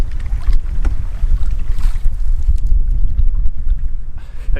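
Strong tailwind gusts across a lake buffet the microphone while paddling a canoe, a loud, rough rumble that keeps going, with faint splashes and knocks from the boat underneath.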